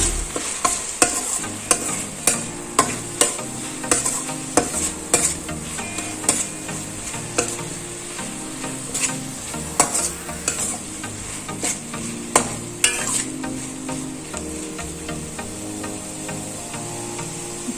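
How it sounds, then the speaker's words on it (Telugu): A spoon scrapes and stirs chili powder through cooking tomatoes in a pan for okra stew, steady repeated scraping strokes over a soft continuous sizzle, close and fairly loud. "ఇప్పుడు ఇందులోకి మనం 2 టేబుల్ స్పూన్స్ కారం యాడ్ చేసుకోవాలి. అంతా కలిసేట్టుగా ఒకసారి మిక్స్ చేసుకున్నాం"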